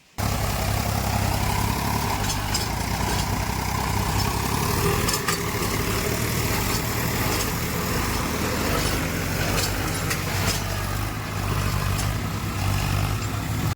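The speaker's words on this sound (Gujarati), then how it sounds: "કિશોરભાઈ ટ્રેક્ટર અહીંયા હાલવીને બેઠા" A tractor engine idles nearby with a steady low rumble and chug, running continuously and evenly with no voices.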